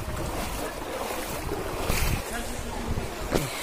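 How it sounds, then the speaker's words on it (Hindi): Floodwater rushes fast along a road in Patel Nagar, Jogbani, Bihar, near the Nepal border: a loud, continuous roaring wash mixed with gusty wind buffeting the microphone. "ये देखिए पटेल नगर का रोड में कितना स्पीड में पानी का रेत चल रही है।"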